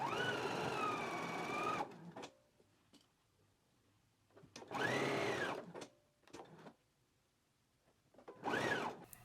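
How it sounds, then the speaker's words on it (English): Home sewing machine stitching the center seam of a McCall's 7810 peplum, running in three bursts of steady whirring, the first about two seconds long, with quiet pauses and faint handling noises between. "now I can go to the machine and stitch this down now."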